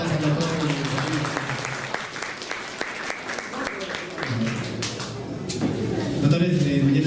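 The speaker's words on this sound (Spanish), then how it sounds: "regalémosle un poco de aplauso más al doctor Salinas" Applause for Doctor Salinas from a seminar audience, sustained clapping with distinct individual claps, a voice talking over it in places and swelling again toward the end.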